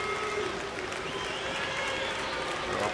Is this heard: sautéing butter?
no